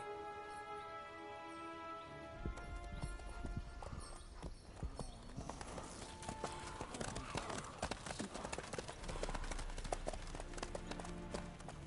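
Horse hooves clip-clopping steadily while riding in The Witcher 3 video game, a continuous rhythmic trot under game music and ambient sound, fairly close and moderately loud throughout.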